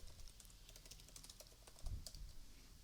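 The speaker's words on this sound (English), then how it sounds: "So here I'll just type contact icon" Steady typing on a computer keyboard while entering web design code, a quiet run of rapid, irregular key clicks over a faint background hiss, with no voices.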